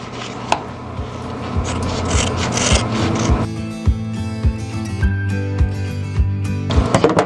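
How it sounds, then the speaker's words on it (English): Scissors trimming string and cutting out an embroidered felt cookie shape, heard as close, soft snips and rasping cuts, some sharp clicks, over a faint background hum, no talk. "I'm going to trim up this string at the bottom here and cut out my cookie design."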